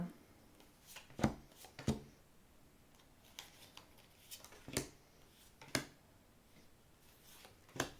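Oracle cards shuffled for a six-card spread: quiet, sporadic crisp riffles and taps, several sharp snaps spread unevenly across a hushed background.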